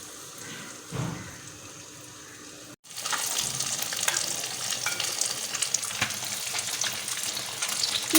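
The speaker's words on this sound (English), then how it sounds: "we will just coat it with the help of a spoon and put it in the oil" Egg-coated pakoras are dropped into hot oil: after a short quiet gap, a loud, steady sizzle and crackle of deep frying fills the rest, with a few sharper pops, and no one speaks.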